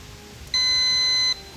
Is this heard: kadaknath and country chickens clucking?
no